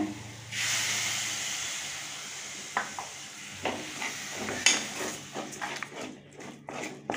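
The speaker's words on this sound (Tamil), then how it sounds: "மிளகாய்த்தூள், மல்லித்தூள் இதெல்லாம் பச்சை ஸ்மெல் போகிற அளவுக்கு 2 நிமிஷம் நல்லா வதக்கி விட்டுக்கோங்க." Chilli and coriander powder masala with tomato puree is sautéed for channa masala gravy, a bright sizzle and hiss in the pan broken by repeated scraping stirs and clinks of the spoon.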